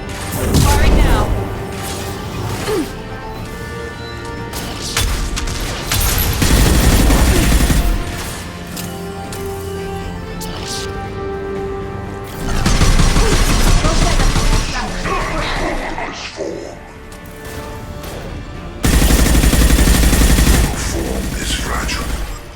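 Mass Effect 2 combat gunfire, loud bursts of rapid automatic shots and impacts in repeated volleys, with game music and voices between the firefights.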